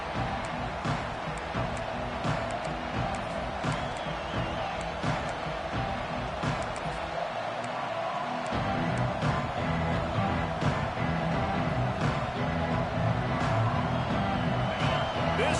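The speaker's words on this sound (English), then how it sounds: "This crowd bringing the energy and noise early." Stadium crowd noise at a college football game between Alabama and Ohio State, a broad sustained roar from a large crowd with scattered shouts, moderately loud and continuous.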